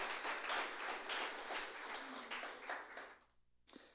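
A church congregation claps during a Sunday service, a loose, faint wash of applause that thins out and stops near the end.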